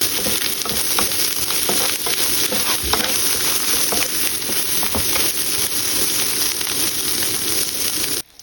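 Dried kachki fish coated with turmeric and salt sizzles loudly and steadily as it fries in a pan, a dense continuous crackle that cuts off abruptly near the end.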